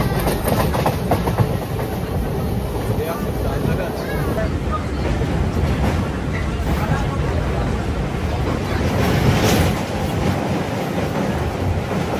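A passenger train pulls out of platform 1 at Panskura station, its wheels clattering in a continuous, loud clickety-clack rumble with a faint hum from the cars. Voices can be heard faintly over the noise.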